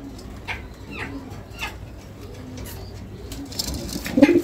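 Racer pigeons coo softly in a loft, with low murmuring calls repeating on and off and a slightly louder flurry near the end.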